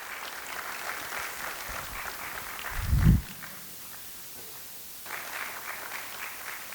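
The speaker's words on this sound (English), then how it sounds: "Give a round of applause for Dr." Moderate applause from an audience at a taxes and compliance seminar as a doctor is welcomed on stage with a bouquet, clapping steady under a close thump and a brief lull before resuming.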